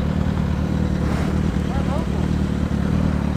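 A Suzuki SRAD 750 motorcycle engine drones steadily nearby, loud and continuous, with faint clatter over it and people talking.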